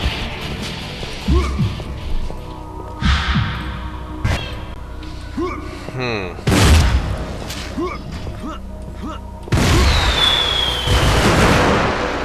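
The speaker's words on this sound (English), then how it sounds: "you added some fire effects. And some firework." Repeated booms, bangs and crackling bursts of fireworks and fire effects in Painkiller Redemption, loud and close, with bright whistling sparkles and a few short spoken sounds between.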